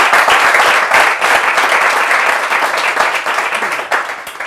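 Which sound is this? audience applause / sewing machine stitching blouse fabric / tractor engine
audience applause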